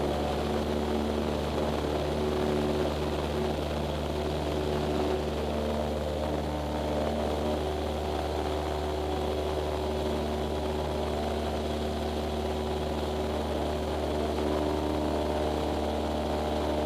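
Light propeller airplane engine at full power during a touch-and-go takeoff, a loud, steady droning roar heard from inside the cabin without pause throughout.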